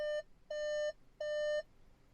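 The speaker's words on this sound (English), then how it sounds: "Anytime you open the door with the engine running, you get this obnoxious beeping" A 2020 VW Atlas Cross Sport chimes its door-open warning with the engine running, three evenly spaced clear electronic beeps, close and moderately loud, alone.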